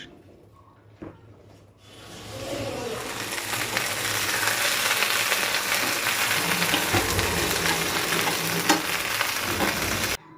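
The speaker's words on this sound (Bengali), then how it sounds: "তেল সুন্দর গরম হয়ে গেছে এরপর দিয়ে দিচ্ছি এখানে কেটে রাখা ঢেঁড়স" Cut okra drops into hot mustard oil in a kadai, setting off a loud, continuous frying sizzle with occasional stirring clatter for most of the clip, after a short quieter start.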